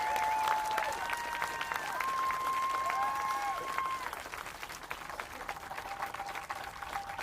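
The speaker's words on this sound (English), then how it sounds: "I'd like you to give them a round of applause" A protest crowd applauds two migrant children outdoors, a sustained wash of many hands clapping at moderate distance, with voices calling out over it and the clapping fading toward the end.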